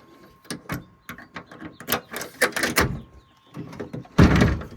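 Grab handles are snapped into the tailgate of a Toyota Tacoma, giving a series of sharp close plastic clicks and knocks, ending in a louder thud.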